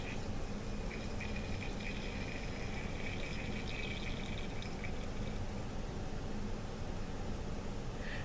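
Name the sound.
water draining from a volumetric pipette into a waste container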